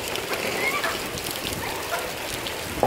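Heavy tropical rain pours down in Terengganu, Malaysia, a dense continuous hiss of drops hitting surfaces, steady and close, with a faint sound briefly rising near the end.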